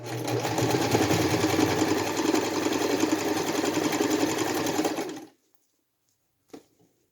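An older sewing machine stitching a fabric face mask, a loud steady mechanical whir running about five seconds before stopping abruptly, followed by a brief click.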